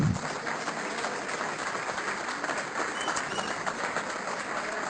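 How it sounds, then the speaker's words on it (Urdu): An audience at an award ceremony during a poetry mushaira in Jubail applauds in sustained, even clapping that fills the whole stretch. The applause is moderately distant and carries no speech over it. "آپ حضرات کی تالیاں رکنی نہیں چاہیے۔"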